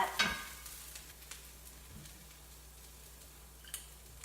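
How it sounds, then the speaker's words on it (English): Broccoli hits hot sesame oil with a quick crackling burst, then settles into a faint, quiet sizzle broken by a few light ticks and stirring clicks. "So I've just dumped all that broccoli in, the oil's hot."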